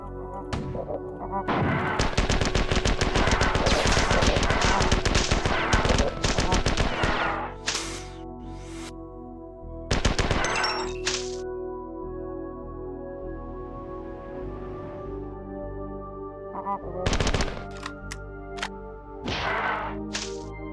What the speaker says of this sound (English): It's just like Halo 1 assault rifle.